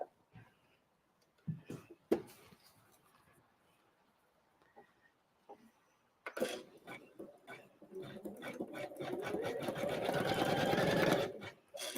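A domestic embroidery machine sews a blanket stitch around a design on a Christmas card, starting with a few short bursts, then a fast, steady mechanical chatter that runs loud and close for the last six seconds.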